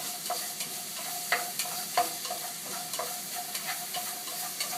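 Salted zucchini is stir-fried briefly in a pan for bibimbap, a steady close sizzle broken by light, irregular scrapes and taps of a spatula.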